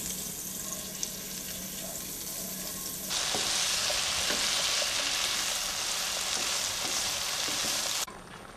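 Mixed vegetables for curry rice sizzling as they fry in margarine in a home kitchen, a faint crackle that suddenly swells into a loud, steady hiss with occasional stirring scrapes, no voices.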